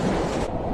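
A train runs along the tracks in the Boruto anime, a brief loud rumbling roll that continues without pause.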